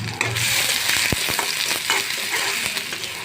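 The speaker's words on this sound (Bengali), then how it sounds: "এখন আমি পেঁয়াজটা দিয়ে দেবো।" Sliced onion sizzles in hot oil left in a pan after frying potatoes, a steady loud hiss broken by sharp clicks of stirring and one distinct knock near the start.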